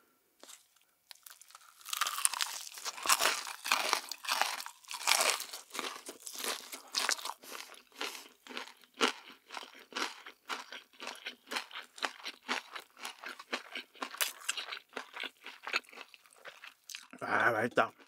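Crunchy fried chicken being bitten and chewed close to the mic, a dense run of crisp crunches and crackles that start loud and keep going at a steady chewing rhythm, with no talking.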